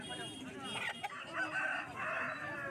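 Aseel chickens at a village poultry market, with a close crow and clucking rising over busy market chatter and background noise in a short burst.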